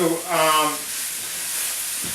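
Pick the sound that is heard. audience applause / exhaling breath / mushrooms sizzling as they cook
mushrooms sizzling as they cook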